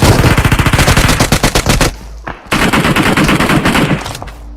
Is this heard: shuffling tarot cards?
no